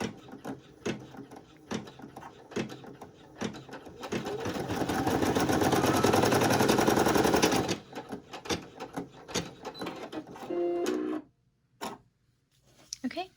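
A Brother PE800 embroidery machine stitches a fin applique on a shirt, first in scattered ticking stitches, then in a loud, steady whirring run for several seconds, then more intermittent clicks before stopping. A voice talks briefly over it.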